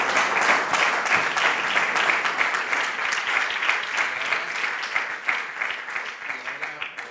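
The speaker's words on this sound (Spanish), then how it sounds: "un aplauso para ellos" The audience at the Campus FAES 2023 opening session applauds, a full, rhythmic burst of many clapping hands that thins and tapers toward the end, with no one speaking over it.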